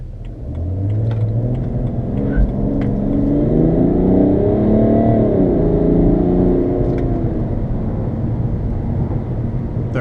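A BMW 335d diesel under hard acceleration with tires slipping, a loud, close engine rumble that rises steadily in pitch as it revs, with no talk over it.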